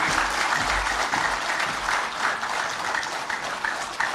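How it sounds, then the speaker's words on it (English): An audience at a book launch breaks into continuous, full applause that stays loud and even across the whole stretch, with no talking over it. "Can we have a louder round of applause?"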